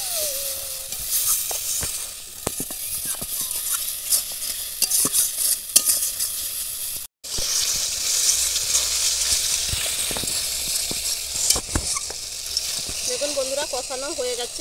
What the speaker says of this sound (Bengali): এবার দিয়ে দেবো একটু জল, দিয়ে এটা ভালো করে একদম কষিয়ে নেবো পুরো